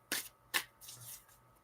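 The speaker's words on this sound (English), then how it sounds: "All right, one more shuffle, and it's good." Two quick riffle bursts of cards being shuffled close by, followed by softer rustling as the deck is squared, with no talking.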